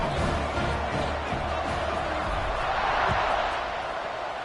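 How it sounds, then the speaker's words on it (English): Steady stadium crowd buzz from an American football video game, a dense continuous roar of many voices after a score, holding at an even level throughout with faint low thumps beneath. "this crowd is buzzing after that last score"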